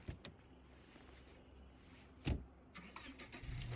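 A car engine starts up and revs in the zombie survival game State of Decay 2, faint and near with a sharp thump midway, then a rising engine hum, with no talk.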